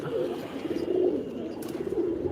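A pet pigeon coos close by in soft, repeated low warbling phrases, with faint background noise and no speech.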